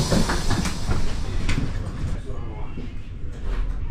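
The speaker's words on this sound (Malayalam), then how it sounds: "സ്വിറ്റ്സർലാൻഡിലൂടെയുള്ള ഞങ്ങളുടെ ആദ്യ ട്രെയിൻ യാത്ര ആരംഭിക്കുകയാണ്" A train rumbles steadily along the rails in Switzerland with a constant low roar and occasional clicks, heard from inside a carriage with some voices in the background.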